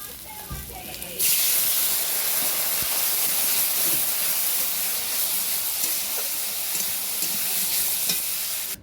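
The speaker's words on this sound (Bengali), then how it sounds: "এবারে জল ঢেলে দেবো" Water poured into a hot pan of fried vegetable stems with chilli, turmeric, ginger and cumin paste bursts into a loud, steady hiss and sizzle after a brief quiet start, sustained close-up for several seconds.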